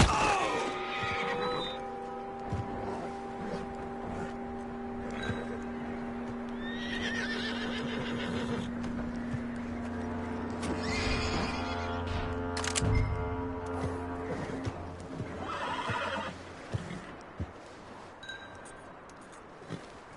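A horse in the video game Red Dead Redemption 2 whinnies loudly several times over a steady background hum, with hooves clopping and occasional clinks between the neighs.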